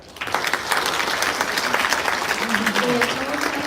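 Large audience applause fills a ceremony hall at the National Assembly experience center in Seoul at a launch event. The clapping is dense and steady, with voices faintly mixed under it.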